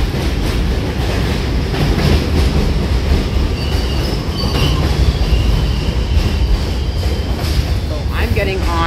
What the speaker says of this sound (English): So I'm getting on this D train.